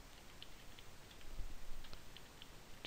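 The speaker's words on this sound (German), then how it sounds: "Die Tastatur ist nicht so wirklich super." Scattered, faint key clicks come from a computer keyboard during programming, with irregular taps spread over a quiet room background.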